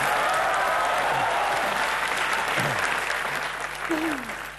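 A comedy show studio audience claps loudly and continuously, a dense wash of applause that slowly tapers off, with a few faint voices underneath.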